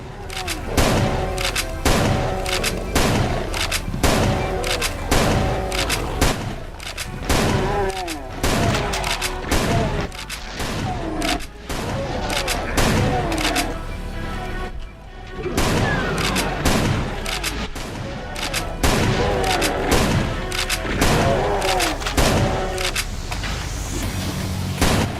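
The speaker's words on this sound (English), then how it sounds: "I like the plasma gun." Rapid bursts of plasma gun fire in a Doom mod, pulsing in a steady repeating rhythm across the whole stretch, loud and close, with brief pauses and layered game effects and music underneath.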